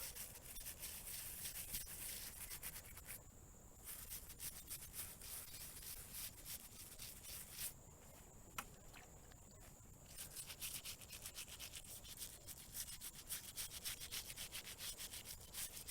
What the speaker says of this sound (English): these bristles on this brush are pretty stiff